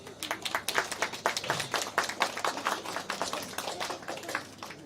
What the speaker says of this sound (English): As I read out this expression of gratitude, please give them a resounding applause.